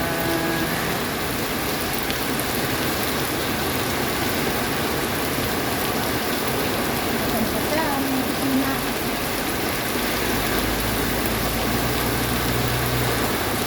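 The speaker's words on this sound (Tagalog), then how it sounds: "Ang lakas ng ulan." Heavy rain pours down in a steady, dense roar of falling water that fills the whole scene without letting up, with a low rumble running underneath.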